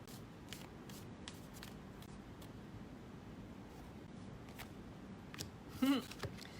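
Soft, crisp riffling of tarot cards being shuffled, brief bursts repeating near the microphone over a quiet hiss, with a short louder shuffle near the end.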